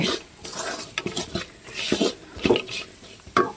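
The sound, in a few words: stirring masala curry with jackfruit seeds in pan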